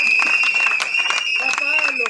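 Applause at a civil wedding ceremony for the couple Tsasa, a lively crowd clapping close by in a continuous patter, with voices and a sustained tone running beneath it.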